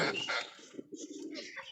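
Racing pigeons at a home loft, with a young round pigeon among them, give soft throaty coos in a short close-up stretch. One bird starts brightly, then lower murmuring follows in an uneven rhythm.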